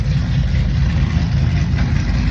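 An old U.S. Army vehicle's engine runs at a steady idle, heavy low rumble filling the scene at close range with no talking.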